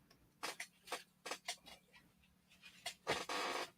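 Quick, breathy panting from a small dog, coming in short uneven bursts up close, with a longer huffing stretch near the end.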